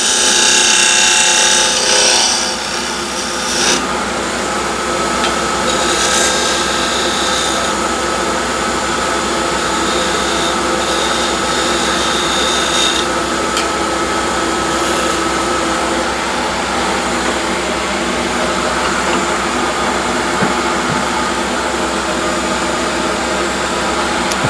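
A wood lathe spins a blank while a 10 mm spindle gouge cuts it, giving a loud, steady, broadband rushing hiss with a constant motor hum beneath, close and unbroken throughout.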